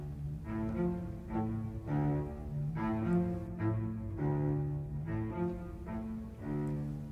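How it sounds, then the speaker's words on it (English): An orchestra plays the habanera rhythm from the opera Carmen in concert, a steady repeating pulse of low sustained notes with melodic lines above, moderately loud throughout with no talking. "This music features the habanera rhythm, which sounds like this."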